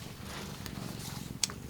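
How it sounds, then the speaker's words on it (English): Domestic cat purring close by indoors, a soft continuous low rumble with a brief higher click partway through. "Now our other cat's in here now too."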